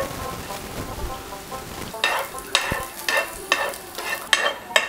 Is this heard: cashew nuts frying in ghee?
yes